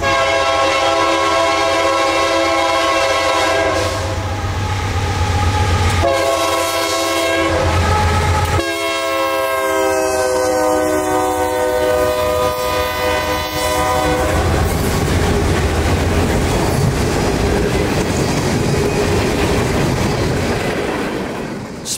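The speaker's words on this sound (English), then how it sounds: "our first northbound train I heard coming up out of Chattanooga" A loud Norfolk Southern freight train horn sounds in several long blasts, then the steady rumble and clatter of a northbound manifest freight's cars rolling past close by near Chattanooga.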